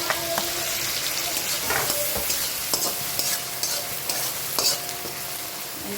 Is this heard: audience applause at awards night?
no